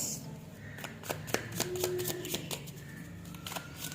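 Close, soft shuffling and flicking of tarot cards, with many rapid papery snaps and slides in a steady flurry over faint room noise, no speech.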